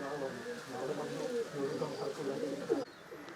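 A time racing pigeon in a loft coos in low, repeated throaty phrases up close, with a faint voice briefly in the background.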